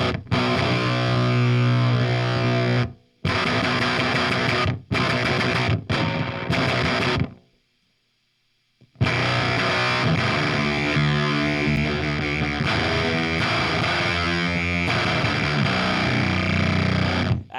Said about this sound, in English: This is a Eastwood side jack baritone with P90s in it.